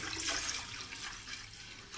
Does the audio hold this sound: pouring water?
yes